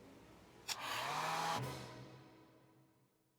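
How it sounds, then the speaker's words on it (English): A hair dryer on a cool, low setting switches on with a click and blows a soft, low whoosh, clicks again, then winds down and fades out. "when you are using your hairdryer, make sure you have it on a cool, low setting"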